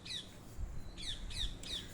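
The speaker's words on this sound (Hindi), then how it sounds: "ये अमरूद के पेड़ पे ना इतना सारा पैरोट, और ये शीशम का पेड़ पे इतना सारा कौवा" Parrots and crows calling from guava and sheesham trees in a village: four harsh, repeated squawks spaced evenly over low background rumble, fairly close and loud.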